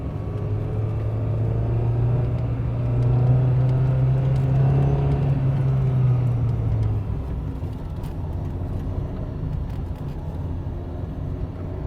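Renault Clio Williams engine revving high while driving, a steady loud rumble with a sustained droning tone that holds for several seconds and then fades into road noise, with no voices.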